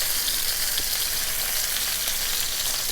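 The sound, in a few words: bacon frying in a skillet on the stove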